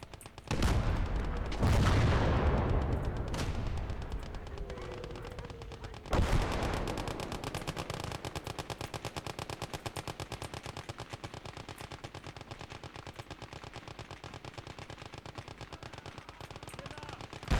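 Heavy gunfire and machine guns from the WWII strategy game Call to Arms: Gates of Hell, opening with loud booming shots, then a long steady machine-gun rattle with occasional louder bursts throughout.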